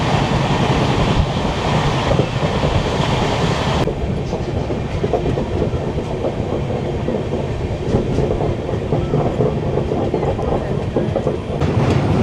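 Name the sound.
Steel Express train running at high speed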